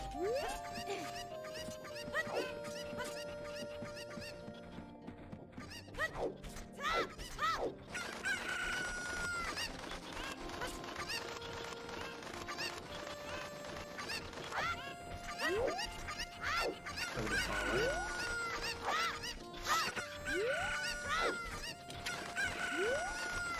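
Chickens in Zelda: Ocarina of Time crow and cluck repeatedly, with rising crowing calls and short clucks scattered among game sound effects and music, moderately loud throughout.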